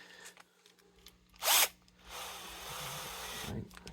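A Bosch power drill whirs in a short, sharp burst near a vintage 1970s Martin 12-string guitar during neck removal, followed by a longer, softer whir, in a quiet room with light handling noises.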